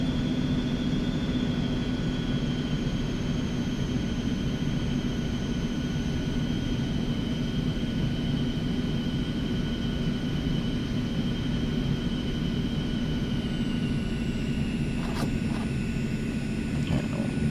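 Eclipse 550 jet taxiing toward the runway in the X-Plane 11 flight simulator, a steady low engine rumble with a constant high whine that dips slightly in pitch near the end, unbroken and without talk.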